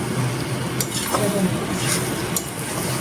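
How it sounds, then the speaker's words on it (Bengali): A fish head is stirred in a cooking pan for a spiced Bengali fish-head dish, with a soft sizzle of frying under a few light scrapes and clinks of the spatula, close and brief. "এবারে মাছের মাথাটা দিয়ে কিন্তু ভালো করে নাড়াচাড়া করে দিতে"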